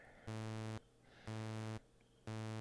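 A buzzy synthesized square-wave tone pulses on and off three times in even bursts, each about half a second, with faint hum between.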